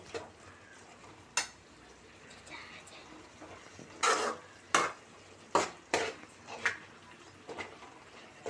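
Finely chopped mushrooms cooking over medium heat in a pan, with a spatula scraping and clinking against the metal in a few sharp, irregular strokes over a soft background hiss.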